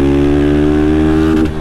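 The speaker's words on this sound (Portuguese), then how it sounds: "Só troca a marcha no corte de giro" A Honda Fan 160 motorcycle with a Dore aftermarket exhaust holds a loud, steady high-rpm drone close to the rider, pressed against the rev limiter, then drops off sharply at the end.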